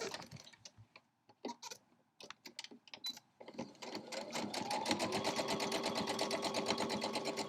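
A sewing machine stitches quilting lines across a crumb block of blue fabric scraps on fusible interfacing, starting with short stop-start bursts and then settling into a steady, close, continuous whir.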